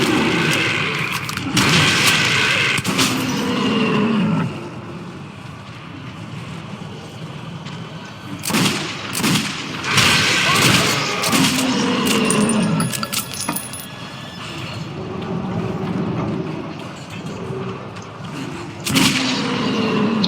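Gunfire in the video game Metro Redux, several loud broadband bursts spread across the stretch, with quieter game noise between them.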